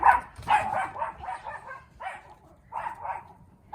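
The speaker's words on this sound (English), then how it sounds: "now the dog's gonna be barking." A dog barks in a run of repeated, fairly loud yaps, with short pauses between bursts and a soft whimpering quality.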